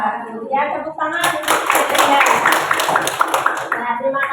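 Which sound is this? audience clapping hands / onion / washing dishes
audience clapping hands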